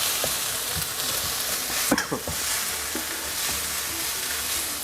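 Pounded chili, garlic and dried chili frying in oil in a pan, giving a dense close sizzle with a few scraping stirs and clinks near the middle.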